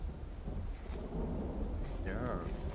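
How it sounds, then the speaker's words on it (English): Thunder and steady rain from a lightning strike in the survival video game Vintage Story, a continuous loud rumbling storm with a brief rising tonal sound near the end. "Lightning strike."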